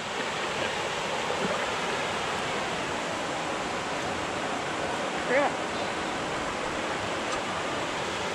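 Creek water flowing steadily as a continuous broadband rush, close and fairly loud throughout, with a brief voice cutting in partway through.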